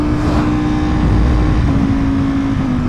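A full carbon Ducati-style V4R sport motorcycle engine roars steadily while riding, a loud continuous rumble with a sustained tone and wind noise, no talking.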